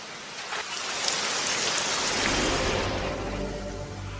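Steady rain falls on surfaces in the Hidden Rain Village in an anime scene, a dense, even hiss of drops with a low rumbling undertone and no voices.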